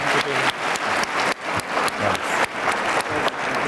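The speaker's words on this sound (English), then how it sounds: "please give a warm round of applause to Dr." A conference audience gives a warm round of applause to welcome a keynote speaker, full, continuous clapping from a large crowd with slight surges, heard up close and without talk.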